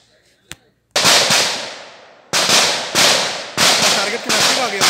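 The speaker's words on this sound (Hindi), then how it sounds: "अब देख पा रहे होंगे हर पांच कदम के बाद एक राउंड फायर कर रहा है।" Rifle rounds fired during jungle combat training, several loud close sharp cracks spaced about a second apart, each followed by a decaying echo.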